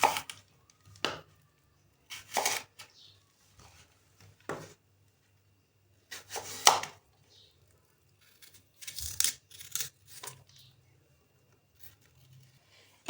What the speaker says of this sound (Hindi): सबसे पहले हम एप्पल को कट कर लेंगे।